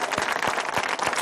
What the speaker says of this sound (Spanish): yo quiero que deis un aplauso, pero de los que retumben todo el Valle el Trubia, al mi Mario, por Dios.